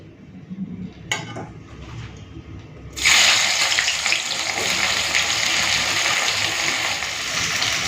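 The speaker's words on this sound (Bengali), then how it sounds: "পেঁয়াজ ভাজার সময় নুন দিয়ে দিচ্ছি" Chopped onion dropped into hot oil in a wok bursts into a loud, dense sizzle after a few quiet clinks and a sharp knock, then keeps frying steadily and close.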